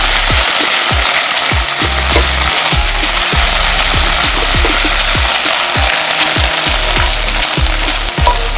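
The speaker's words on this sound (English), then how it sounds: "I'm just going to allow these to cook for about 2 minutes or so, or saute in the oil." Shrimp shells sauté in hot oil in a single pot, giving a loud, continuous close-up sizzle broken by regular soft thumps and scrapes as the shells are pushed and stirred.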